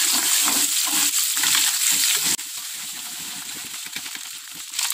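Anchovies are stir-fried in a pan for a village-style cassava leaf dish: a constant close sizzle and crackle with scraping stirring strokes, dropping to a quieter, steadier sizzle midway.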